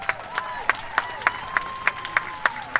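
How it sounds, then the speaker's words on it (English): Sparse, evenly spaced claps ring out in a steady rhythm over a faint background murmur and a tonal hum, at an outdoor Juneteenth reparations rally at the Minnesota State Capitol. "Give Mr. Thompson another round of applause."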